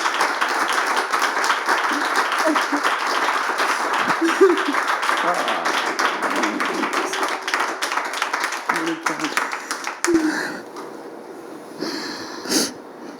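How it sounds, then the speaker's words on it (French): A church audience applauds steadily with dense clapping that runs for about ten seconds, then fades out into quieter crowd noise and brief sounds. "Alors, on peut applaudir pour elle, s'il vous plaît."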